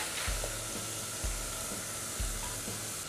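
Coconut milk sizzles in a pan with fried shallots and lemongrass, a steady loud frying hiss broken by soft periodic thumps of stirring, close and continuous.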